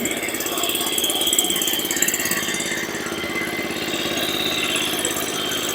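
Star MRW0850 self-propelled tracked baler, its engine running steadily with a mid-pitched hum and whine as it moves on tracks, moderately loud and close, with no talk over it.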